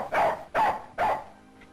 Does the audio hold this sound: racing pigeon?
no